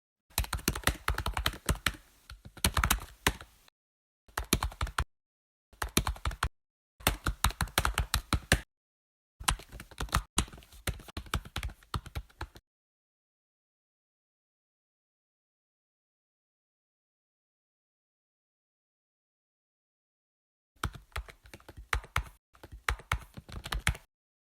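Data being typed into an Excel entry form on a computer keyboard, with rapid close clattering key bursts separated by short pauses, then a long silence before another run of typing.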